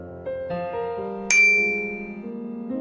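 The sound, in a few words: phone message notification sound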